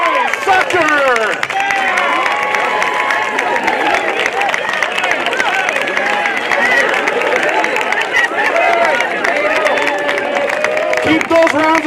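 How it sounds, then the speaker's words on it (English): A big crowd at a high school awards ceremony claps steadily throughout while voices chatter, shout and cheer over the continuous patter of hands. "Keep those rounds of applause going"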